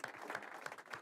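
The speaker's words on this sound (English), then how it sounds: "Round of applause." A short burst of audience applause at an entrepreneur pitch event, a brief patter of clapping hands indoors at moderate volume.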